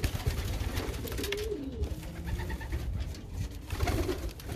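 Pigeons in a breeder loft coo softly in low repeated throaty calls, close by, over steady background rustle and noise.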